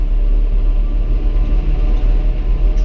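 A John Deere 6R tractor, tuned with Ekotune for 35 extra horsepower, runs at full throttle up a hill. Its engine gives a loud, steady, close low drone that holds without a break.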